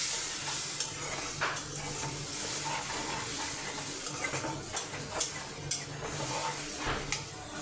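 Onions and spices sizzling in a pan while they are stirred and browned, a continuous crackling fry with repeated scrapes and clinks of a spoon against the pan, growing more frequent toward the end.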